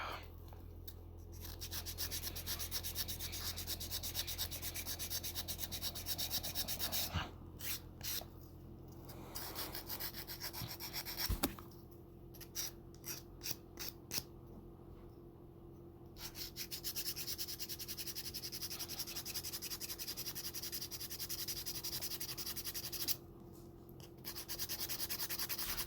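A 3D printed Lego Bionicle mask being sanded with a power sander, a steady close rubbing and grinding that runs for long stretches, broken by short pauses and a few sharp scrapes.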